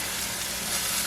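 Beef searing in a hot pan for ramen, a loud continuous sizzle with a dense, even hiss throughout and no talking.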